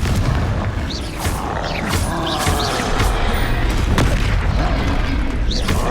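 Repeated fiery spell blasts in the fantasy action game Hogwarts Legacy, booming bursts and pops over dense combat noise that stays loud and busy throughout, with several sharp hits standing out.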